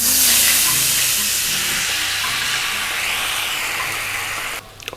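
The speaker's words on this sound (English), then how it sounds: "And the deglaze." Wine hits a hot pan to deglaze it, with garlic and juniper-style spices in the mix, releasing a loud, steady steaming hiss and sizzle that carries on without a break and cuts off sharply near the end.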